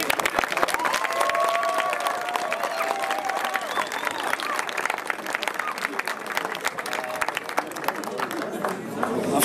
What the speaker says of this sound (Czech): Takže pro ně poprosím velký potlesk.